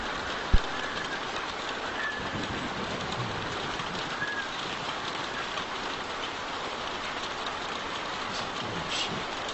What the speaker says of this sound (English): We're sitting out in the rain like a damn deer.